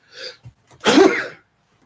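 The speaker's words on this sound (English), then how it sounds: "I had to sneeze." A single close sneeze, preceded by a quick intake of breath, then quiet.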